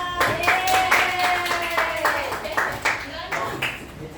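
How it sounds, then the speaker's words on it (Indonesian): A school class claps hands together, a run of sharp, irregular claps from several children close by, with voices talking over them. "Oke, tepuk tangan."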